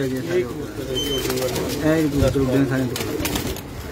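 Pigeons coo continuously on a rooftop loft, several birds overlapping in soft, throaty rolling calls, close and steady, with someone talking over them.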